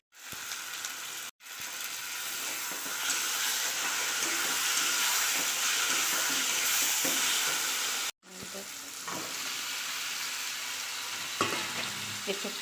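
Spices and pastes, including ginger paste, green chilli paste and tomato paste, sizzle and fry in a pan for jackfruit curry, a steady close sizzle with stirring scrapes and two brief breaks, no talk.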